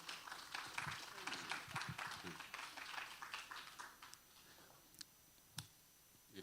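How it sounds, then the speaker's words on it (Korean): Audience clapping at a battery materials symposium, a dense patter of many hands that thins out and fades after about four seconds, leaving only a few scattered claps. "여러분 박수로 맞아주시기 바랍니다"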